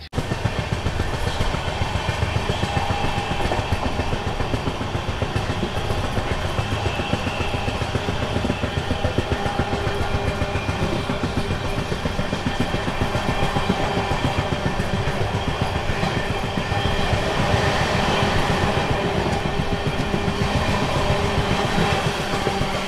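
Belagavi–KSR Bengaluru Superfast train 20654 arriving at KSR Bengaluru City station, a continuous loud rumble of coaches with engine drone and rattling, steady throughout, no voices.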